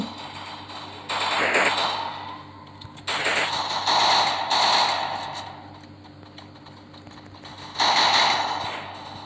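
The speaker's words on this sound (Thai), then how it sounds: "เพื่อนถูกยิง" Bursts of rapid automatic gunfire from a 4v4 ranked match of the Free Fire mobile game, three loud volleys separated by quieter stretches with faint background clatter.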